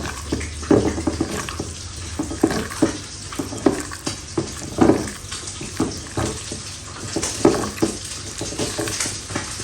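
Fried eggplant being mashed and mixed by hand for Bengali begun bharta in a home kitchen, giving soft, wet squelching and stirring sounds in an irregular rhythm, close and moderately loud, with no talking.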